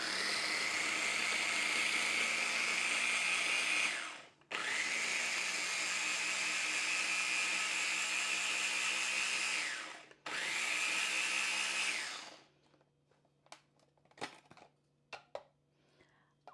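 A blender whirls continuously to grind ingredients for a pepper sauce, running loud and steady in three long bursts with two brief stops, then rattling and clicking as it is handled afterwards.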